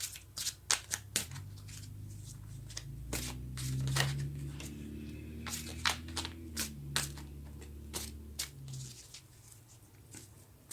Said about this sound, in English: And the cards don't want to shuffle nicely.